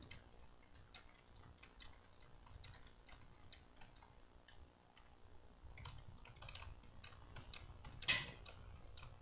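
Computer keyboard keys are mashed rapidly while playing an MMORPG, a quiet stream of fast clicks and taps, with one sharper louder clack near the end.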